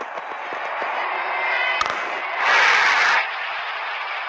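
A batsman strikes the ball during a cricket match in the video game Real Cricket 20: a sharp crack over a steady stadium ambience, followed by a short, loud surge of crowd noise that fades back.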